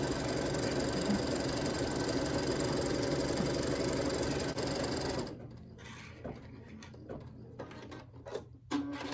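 An embroidery machine stitches a bean stitch with 40 weight thread on top and in the bobbin, running as a loud, steady rapid whir for about five seconds before stopping, followed by quieter clicks and handling noises.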